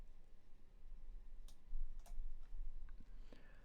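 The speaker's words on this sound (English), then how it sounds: "So left click live." Several faint clicks and ticks of a computer mouse sound close, set against a low background rumble.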